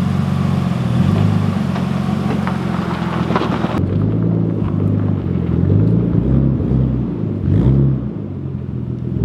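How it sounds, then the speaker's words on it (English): A Nissan Skyline R33 engine runs on a dyno, a loud low throbbing drone that drops abruptly in level partway through and then wavers through uneven revs, close by with no voices. "Car is running."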